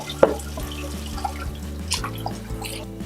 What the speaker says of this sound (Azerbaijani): Bunların da içində çöküntü olur deyə təzədən yuyub əlavə edirik balona.